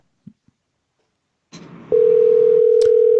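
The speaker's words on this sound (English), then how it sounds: "It is the phone ringing." A telephone ringback tone while placing a call to a relative: a soft noisy lead-in, then a steady, loud continuous tone that holds unbroken to the end, with no voices.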